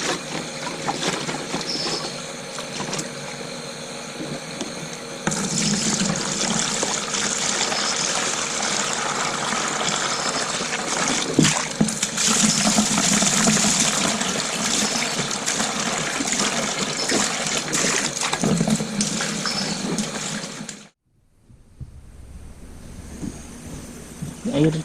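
Rice washing water pours steadily into a container in a loud, continuous rushing gush that lasts about twenty seconds and then cuts off abruptly into near quiet.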